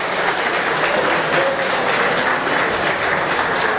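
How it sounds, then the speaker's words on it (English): Loud, dense applause fills the arena at a dairy cattle show for the youngest pee wee showmen, sustained steadily from start to finish. "give a round of applause to all these Pee Wee showmen that we have out here"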